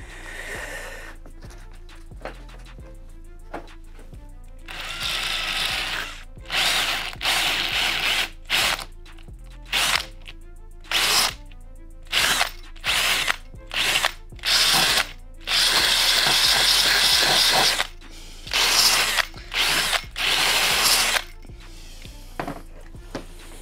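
A power drill spins a plastic brush to scrub dried tubeless tire sealant from a bicycle tire, running in repeated loud bursts of whirring and scraping, some short and some held for several seconds, with brief pauses between.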